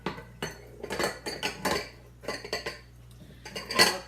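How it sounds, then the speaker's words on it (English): Ceramic coffee cups are set down inside a metal kettle in a home kitchen, making a series of close, sharp clinks and knocks in short irregular bursts over a low steady hum. "take your kettle, put your coffee cups inside."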